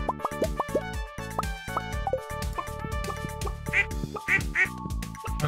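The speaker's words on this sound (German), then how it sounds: "Quack, quack, quack, quack, quack." Ducks quack in the farming game Stardew Valley, a string of short nasal quacks repeating over light game music and soft plopping effects, fairly quiet.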